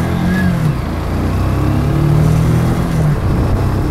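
A Lexmoto Michigan motorcycle revs steadily through its gears while riding, a continuous loud mid-pitched engine drone with rising tones shifting as each gear is worked through.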